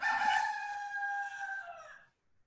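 A rooster crows once, a single long, clear call at moderate distance that fades out after about two seconds.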